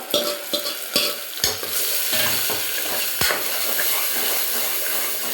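Mutton lungs being stirred and sautéed with curry masala powder in a pan: a steady close sizzle with repeated spoon scrapes and knocks against the pan, no talking.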